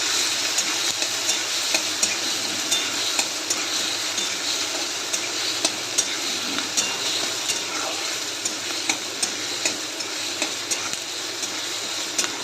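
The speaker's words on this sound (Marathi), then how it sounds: "त्यानंतर कढीपत्ता, कांदा, टोमॅटो एकत्रच घालून परतून घेऊया।" Curry leaves, onion and tomato sauté in a pan for stuffed okra, a steady bright sizzle running throughout with regular light clicks of a spoon stirring, close and moderately quiet with no talking.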